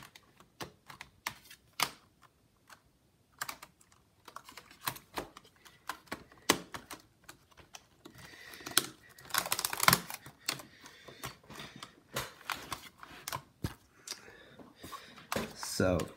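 Keys on a repaired Lenovo ThinkPad Yoga keyboard are tapped in irregular bursts of sharp clicks, near and fairly quiet, with brief pauses and some talking between them.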